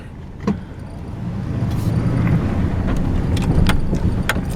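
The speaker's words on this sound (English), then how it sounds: "So we're going to drive into the meadow area up here." Vehicle driving off a road into a ranch meadow, a steady close engine and tyre rumble rising slightly and holding, with occasional clunks and rattles from the cabin.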